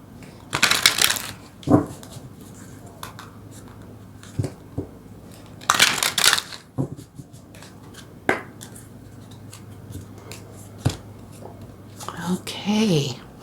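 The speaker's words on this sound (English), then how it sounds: "Let's go ahead and get a card from the angels." A deck of oracle cards shuffled by hand in a few short riffling bursts, soft and close, separated by quiet taps and card handling, with a person speaking quietly in between.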